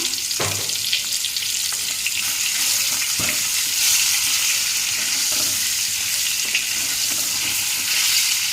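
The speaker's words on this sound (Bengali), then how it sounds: "এটা ভেজে নেব লাল করে হালকা লাল" Potatoes seasoned with salt and turmeric fry in a pan for potato biryani, giving a steady, moderately loud sizzle broken by a few sharp stirring clacks, with no one speaking.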